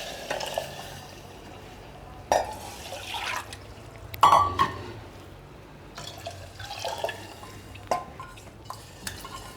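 Water is poured into a pot of jeera rice, coming as several separate splashy pours and sloshes with metallic knocks of the pot between them, heard close with no talk.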